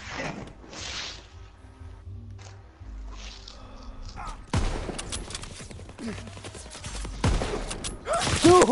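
Gunfire in a WW2 first-person shooter game, starting as sparse mechanical clicks and handling noise, then dense rattling bursts of shots from the midpoint onward, growing louder near the end.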